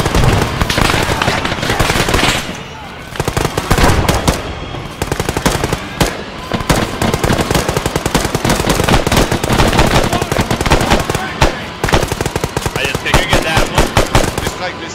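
Rapid machine gun fire in the military shooter game Arma 3, loud sustained bursts of closely spaced shots running almost continuously, with voices shouting over the gunfire.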